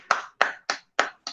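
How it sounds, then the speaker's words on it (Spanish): Five separate, evenly spaced hand claps sound close and crisp in a quick steady rhythm, from a group at an injury-prevention talk and exercise session. "Un aplauso para ustedes"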